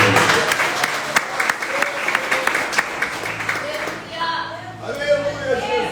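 A church congregation applauds during a revival worship service, dense sustained clapping with sharp individual claps standing out, a voice speaking over it before the clapping thins and fades.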